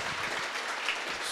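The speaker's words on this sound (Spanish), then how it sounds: "el aplauso para estas personas que vienen para acá celebrándonos" Brief burst of crowd applause at a community religious festival celebration in Racine, Wisconsin, dense steady clapping from many people, loud and continuous throughout.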